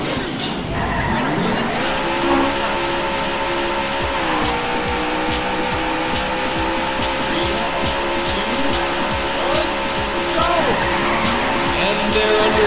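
Race cars in the arcade game Daytona roar continuously with loud, sustained engine drone, and tires screech and skid repeatedly throughout, up close and dense for the whole stretch, with a game announcer's voice heard near the start.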